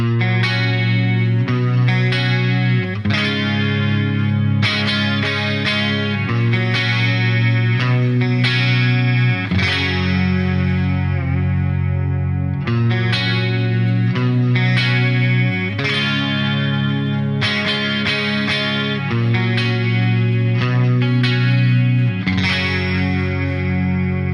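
An electric guitar through an ADA MP-1 preamp plays clean, shimmering, wide-sounding chords with a chorus effect, strummed in repeating phrases and sustained steadily at close range.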